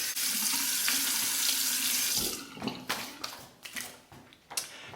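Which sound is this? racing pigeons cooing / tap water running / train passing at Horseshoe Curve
tap water running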